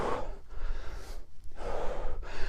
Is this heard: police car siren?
no